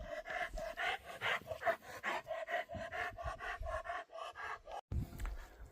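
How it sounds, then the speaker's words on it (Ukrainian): A dog pants rapidly and steadily up close, a quick rhythmic huffing that continues for several seconds before a brief pause and a soft bump. "Так дихаєш Вашка."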